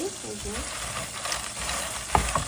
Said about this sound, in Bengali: এইখানে দেখো বাদাম ভাজতেছি